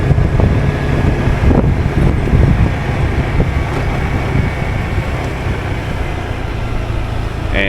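A motorbike ride through a neighbourhood in Thailand: a loud, steady roar of engine and rushing wind buffeting the microphone, continuous for the whole stretch with a few small knocks, and no one speaking.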